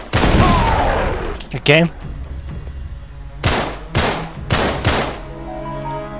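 Gunfire from the game Uncharted 3: Drake's Deception Remastered on hard mode, loud sharp shots in a quick cluster and then several separate heavy bangs, with someone talking over the early part.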